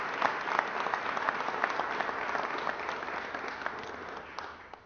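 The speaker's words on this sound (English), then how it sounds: "Can we please give them another round of applause one more time?" Steady audience applause for the Goldman Sachs team, dense overlapping claps sustained at moderate level throughout, fading slightly at the end.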